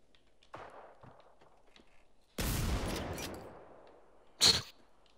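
Gunfire in the video game Generation Zero: a long sustained burst of shots followed by a short second burst, loud against a quiet background with a few faint taps before them.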